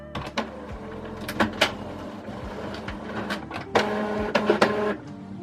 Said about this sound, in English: Now the actual printing on this printer takes quite a while